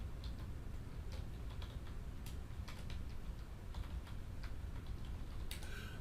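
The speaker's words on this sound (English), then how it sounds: "let me type this in here for you" Quick, uneven clicks of typing on a computer keyboard, scattered in short bursts against a steady background hum with no talking.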